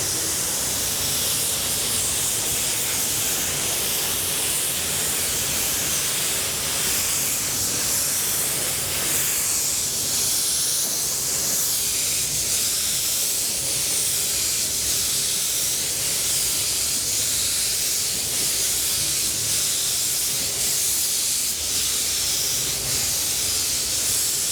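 Continuous loud hissing spray from a spray gun applying Spies Hecker pearl white paint coats, steady and close, with slight swells in intensity over a long stretch and no voices.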